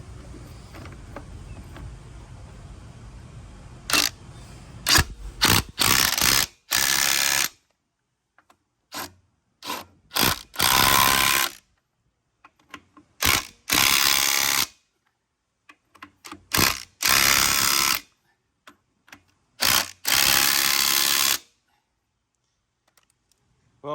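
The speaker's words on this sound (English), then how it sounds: "Well, we got it torqued down" An impact wrench torques down a trailer hub part in a series of short, loud, buzzing bursts separated by silent pauses, close by, with no talk.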